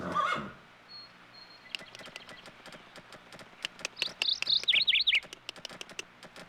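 A horse whinnies in a high, wavering call in the 2006 PlayStation 2 game Let's Ride: Silver Buckle Stables, with scattered clip-clop hoofbeats and faint chirping around it; no talking.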